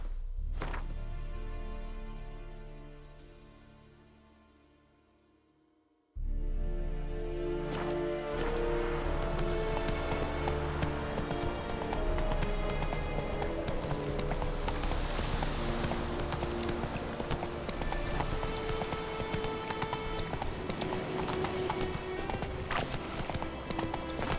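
Roach, Geralt's horse in The Witcher 3: Wild Hunt, galloping with steady rhythmic hoof clip-clops, close and loud after a brief fading stretch and a sudden cut, continuing evenly with faint rustling beneath.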